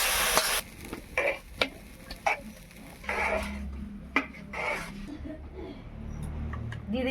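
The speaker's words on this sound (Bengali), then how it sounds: "মশলাটা আমি খিচুড়ির মধ্যে ঢেলে দিচ্ছি" Fried spice paste of ginger, garlic, cumin and chilli is poured into vegetable khichuri and stirred, with scraping strokes and soft bubbling, a few sharp knocks and light sizzling.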